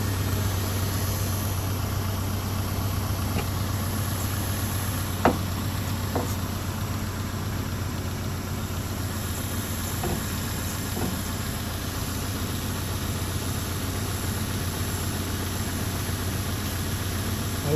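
A car engine idles steadily during a DIY air-conditioning repair, a constant close mechanical hum with a few faint clicks and taps over it and no voices.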